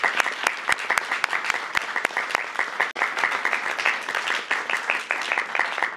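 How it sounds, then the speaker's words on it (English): Children and teachers applaud at the White House, a dense burst of clapping that carries on steadily throughout with sharp individual claps standing out, close and fairly loud. "Give yourselves a round of applause."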